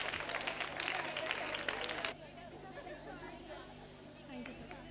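Applause from an audience at a Holi quiz show at a women's polytechnic college as a prize winner is called up: dense, fairly close clapping for about two seconds, then it drops away to a quieter murmuring room with a voice.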